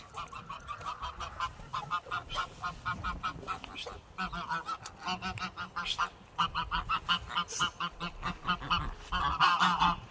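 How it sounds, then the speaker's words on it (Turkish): A flock of geese honks repeatedly and excitedly close by, the calls overlapping in a continuous noisy chorus. "şey kazlar içeri girdi"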